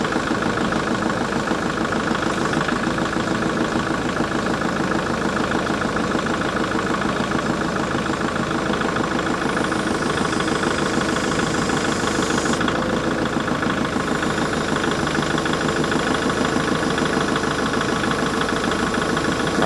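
A tractor engine idles steadily and loudly up close throughout, a continuous rumbling drone with mechanical clatter and no pauses.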